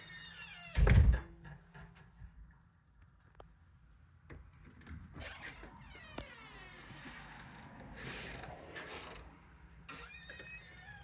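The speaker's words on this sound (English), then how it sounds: "There, the door's open." A door is opened by a handler training a golden sheepadoodle to stay calm at doorways, giving one loud close thunk early, then quiet room noise with faint scattered clicks and movement.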